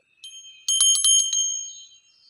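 A small handheld holy bell used in a Hindu ritual rings out clearly, a few light strikes and then a quick run of bright rings that fade into a lingering shimmer, with no voices.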